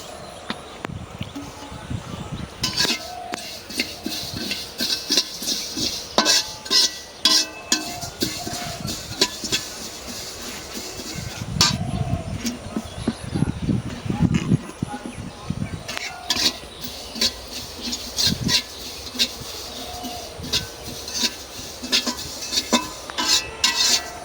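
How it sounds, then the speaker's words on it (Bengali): Black cumin seeds dry-roasting in a pan, with steady stirring scrapes and light metallic clinks of a spoon against the pan, close and continuous, alongside faint kitchen background noise. "ভাজা নিব কালো জিরা"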